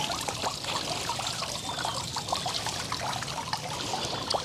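Water trickles and splashes steadily over soil and leaves as potted summer blooms in a garden urn by a fountain are watered, a continuous close pouring with small irregular drips throughout.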